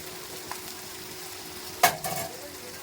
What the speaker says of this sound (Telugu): గోల్డెన్ కలర్ వచ్చిన వరకు ఫ్రై చేసుకోవాలి